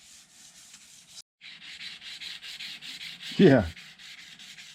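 Dry hand sanding on the rocker panel of an old-body-style Ford truck makes rhythmic back-and-forth scratchy strokes, close and steady, with a short pause and a brief spoken word partway through.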